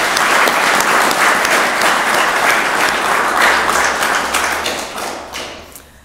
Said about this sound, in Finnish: Annetaanko aplodit Toivo Mäkelälle?